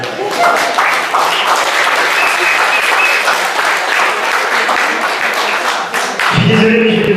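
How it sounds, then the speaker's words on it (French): Sustained applause from a crowd at a football tournament award ceremony, loud and continuous for several seconds before it thins and a voice cuts in. "Et on va laisser ça s'applaudir quand même."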